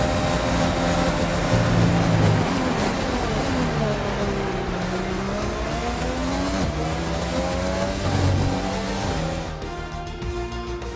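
Race cars roar through an F1 2020 video game race, engine notes rising and falling with gear shifts over about eleven seconds, loud and continuous, with a brief tire squeal near the end.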